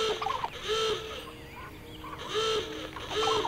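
Repeated gobbling, clucking hen calls from a chicken in the Ratatouille video game, two loud bursts separated by quieter game ambience.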